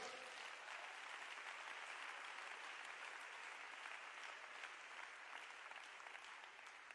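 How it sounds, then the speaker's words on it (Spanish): A church congregation applauds steadily, a dense even wash of clapping from many hands that holds for several seconds at a moderate distance with no break. "Dele ese aplauso al Señor."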